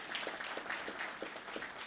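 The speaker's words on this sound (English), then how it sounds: "So again, another round of applause for her." Faint, distant applause for a speaker at an event, a brief patter of many hands clapping at an even, steady level with no voices over it.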